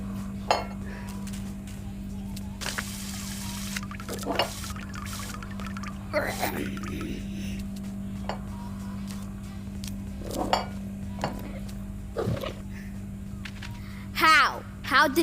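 Dishes and plates clatter in the video game I Am Cat: scattered clinks and sharp crashes of crockery over a steady low hum, with a person talking in between.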